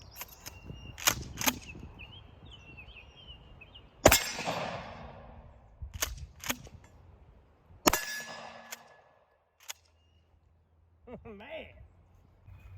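A Mossberg Shockwave shotgun firing slugs at a steel target outdoors: several sharp, loud blasts spaced a few seconds apart, each with a brief ringing decay, alongside quieter handling clicks and a short stretch of near silence.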